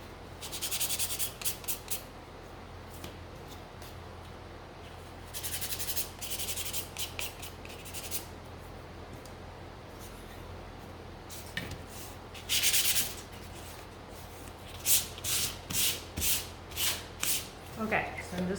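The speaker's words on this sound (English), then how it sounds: "I'm just gonna come in here and gently sand this one because it does have a very delicate stem" A delicate stem on a mini sunflower gnome is gently sanded by hand, making close, soft rasping strokes in several separate bursts with quiet pauses between them.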